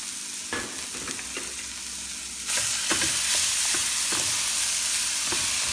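Rice going into a hot pan and stir-fried, a steady sizzle that surges louder partway through, with repeated scraping strokes of a spatula close up.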